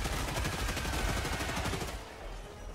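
Rapid machine pistol fire in the Helldivers 2 video game, a dense rattling burst of shots that runs steadily for about two seconds and then thins out into quieter rumbling.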